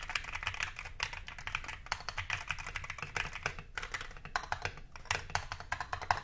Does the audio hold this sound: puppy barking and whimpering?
no